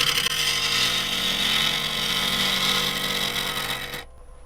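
Wood lathe tool cutting into a spinning wood burl, a loud continuous scraping hiss held for about four seconds before stopping abruptly, leaving a quiet hum, with no talking.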